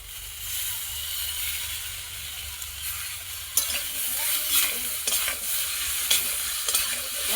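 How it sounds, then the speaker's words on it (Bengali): Poppy seed paste and mustard paste being stirred in a hot pan, a steady frying hiss with a few sharper scrapes of the spatula partway through; no one speaks. "পোস্ত বাটা সর্ষে বাটা দেওয়ার পর কিছুক্ষণ নাড়াচাড়া করে নেবো।"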